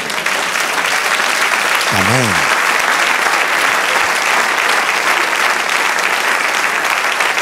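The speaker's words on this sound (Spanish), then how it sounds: "Den un aplauso al Señor." A church congregation applauds during a sermon, steady massed clapping filling the space, with a single short spoken word breaking in briefly over the applause partway through.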